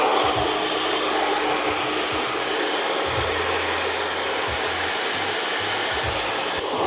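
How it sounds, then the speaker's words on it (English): A hair dryer running on high speed with medium heat, used to smooth a fringe during a textured side part haircut, gives a steady close, loud whooshing roar that holds for the whole stretch. "switch it on, high speed, medium heat. Put that in, use the hairdryer to round it off."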